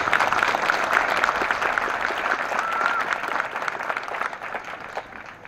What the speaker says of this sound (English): A round of applause for them, if you would please